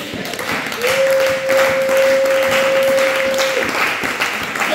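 A church congregation applauds for several seconds, a dense and fairly loud wash of clapping with a sustained vocal tone held above it.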